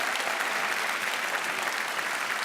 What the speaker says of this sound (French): Également applaudissements pour de Laurentis